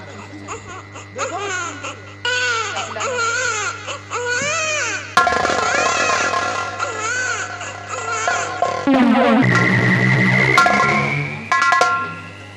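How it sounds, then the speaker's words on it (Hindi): An infant cries in rising, wailing bursts that grow more frantic during a nautanki folk theatre performance, with a steady low hum underneath and a sharp shift to louder, strained crying near the end. "कहीं बच्चा के रोने की आवाज आ रही है।"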